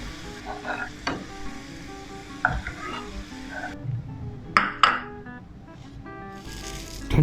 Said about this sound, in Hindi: और प्याज को इसमें तल लें। चम्मच चलाते रहें